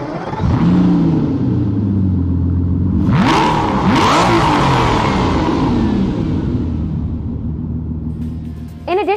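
A Forza Motorsport 4 car engine cranks, catches and revs up, its pitch sweeping upward in surging revs before settling into a steady idle, loud and close throughout.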